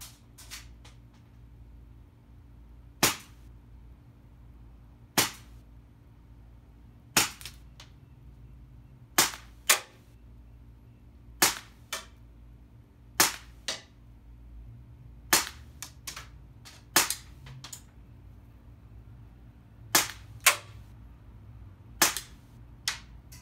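Beretta M92 pellet air pistol firing about fifteen sharp, dry cracks at irregular intervals, some in quick pairs, close and clear over a low steady hum with no talk.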